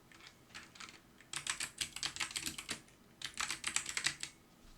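Bursts of rapid keyboard typing on a computer, clustered clicks in two main runs with a short pause between, close and fairly clear with no talking.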